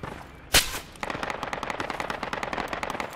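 Machine gun fire in the military shooter Project Reality: one sharp loud blast, then a rapid sustained burst of shots rattling at a steady fast rhythm, moderately distant, with no talking.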